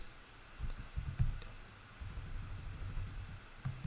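Typing a prompt on a computer keyboard: irregular runs of soft, close key clicks in uneven bursts, quiet overall with no talking.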